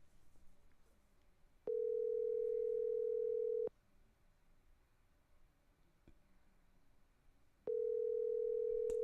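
A steady telephone ringback tone sounds in two-second bursts separated by long pauses of quiet line hiss.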